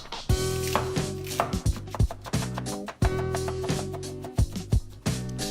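Celery is chopped with a knife on a cutting board, giving loud, close thuds in quick irregular bursts with short pauses between runs.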